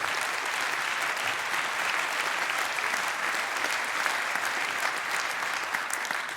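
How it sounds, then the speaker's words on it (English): A conference audience at a hacker congress applauds for Lars and his project, a steady, dense wash of clapping from a large crowd lasting the full six seconds, even in level and moderately distant, with no talking over it. "give it again a round of applause for Lars and this project"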